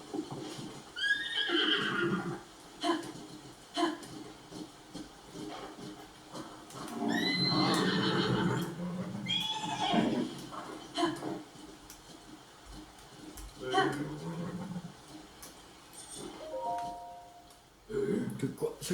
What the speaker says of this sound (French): C'est bien un cheval blanc géant